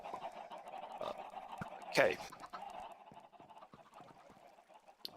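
Chickens in a video game farm: faint scattered clucking and fowl squawks with one louder burst of flapping and cackling, while a person speaks briefly over them.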